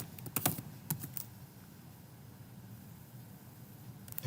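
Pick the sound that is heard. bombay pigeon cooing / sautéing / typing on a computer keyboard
typing on a computer keyboard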